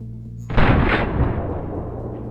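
An SKS rifle is fired in the survival video game DayZ. One sharp, loud shot rings out and leaves a long rumbling echo that slowly fades.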